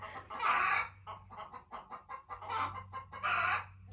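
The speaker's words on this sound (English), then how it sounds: "each hen will have her own little pattern of clucks and squawks." Several hens cluck in uneven bursts, with louder squawking calls rising between quieter clucks, close by.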